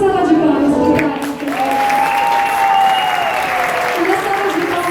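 A crowd at a benefit concert at Espaço 7 applauds a DJ, a continuous wash of clapping running under sustained tonal sound, likely a voice or music, fairly loud and close.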